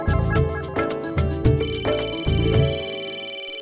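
A phone ringtone rings in a home where a family is eating parathas and butter, loud and close, a melodic electronic tune repeating over about three and a half seconds.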